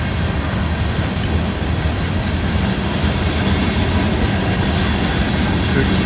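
Long freight train rolling past a trackside detector, a loud continuous rumble of wheels and cars with steady rail noise close by and no break.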